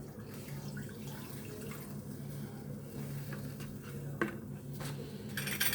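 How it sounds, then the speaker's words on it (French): Twenty centilitres of water poured into a pan of white wine for a pork filet mignon with old-style mustard, a continuous soft splashing and trickle with faint clinks of kitchenware nearby. "On met 20 centilitres d'eau."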